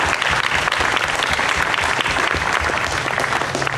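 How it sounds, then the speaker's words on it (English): A church congregation in the Diocese of Winona applauds its 125th anniversary, a dense, steady roar of many hands clapping at close range, loud and sustained throughout. "Give yourselves a round of applause."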